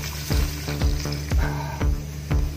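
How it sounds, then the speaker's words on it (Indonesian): Water at a rolling boil in a pot over an outdoor fire for cooking suckermouth catfish by a river, bubbling and sputtering in steady, loud pulses roughly every half second, with no voices. "Dalam air, kalau air sudah mendidih"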